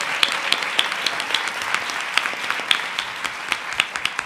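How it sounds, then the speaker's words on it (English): An audience applauds Congressman Cummings at a session, a steady, full round of clapping with sharp individual claps standing out across the whole stretch, with no talking over it. "So give him a round of applause."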